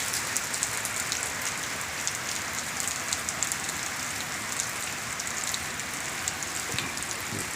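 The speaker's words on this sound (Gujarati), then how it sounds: "ધીમો ધીમો વરસાદ વરસે છે" Gentle rain falls in Rajasthali village, a soft, continuous patter with scattered crisp drops landing close by, steady from start to finish and free of any talk.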